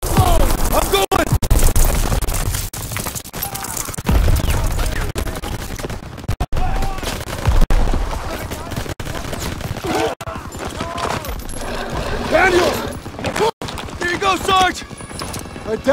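Battlefield gunfire in Call of Duty: WWII, with repeated bursts and heavy shots rolling through a dense, loud combat mix while voices talk and shout over it throughout.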